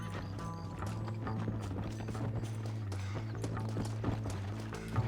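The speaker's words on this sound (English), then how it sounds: "Why is my horse all the way over here?" Horse hooves clip-clop steadily in Red Dead Redemption (2010), a continuous rhythmic trot over a low droning game soundtrack, with no talk.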